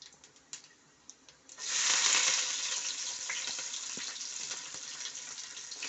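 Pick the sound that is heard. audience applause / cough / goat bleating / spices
spices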